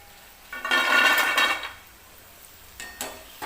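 Crispy fried peanuts clatter and rattle as they are tipped onto a metal plate, one close, loud scattering burst followed by a few small, faint clinks.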